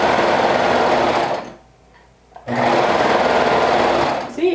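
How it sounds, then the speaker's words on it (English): A sewing machine stitches a dress hem, running loud and close in a fast steady whir, stopping briefly for about a second, then starting up again. "give your machine time to adjust so it doesn't skip stitches"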